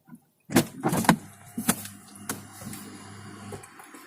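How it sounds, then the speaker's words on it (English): Electric motors of a Mercedes-Maybach S560 moving the power seat back and the steering wheel up after the engine stops and the door opens, with a few clicks and thumps followed by a steady low mechanical whir. "The steering wheel goes up, the seat goes back."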